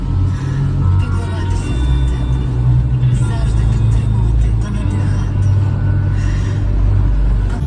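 A Porsche Cayenne driven through town in the morning, its engine and road noise a steady, close low rumble from inside the cabin, with speech partly over it.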